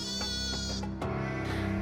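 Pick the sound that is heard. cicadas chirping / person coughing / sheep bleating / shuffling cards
sheep bleating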